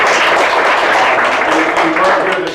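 A dense, loud wash of applause fills a summit hall, many hands clapping together in a continuous, even roar with no pauses.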